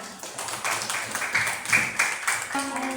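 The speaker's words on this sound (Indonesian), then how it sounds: "Tepuk tangan." A classroom of students claps together, a busy uneven patter of hands that swells and fades over a few seconds, with a voice breaking in near the end.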